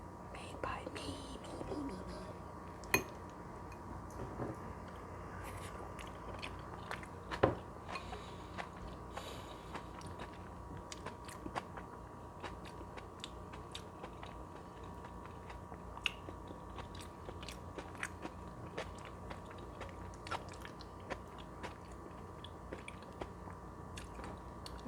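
Homemade potato salad is chewed close to the microphone, with soft, wet bites and small crunches repeating steadily over a quiet background, accompanied by faint whispering.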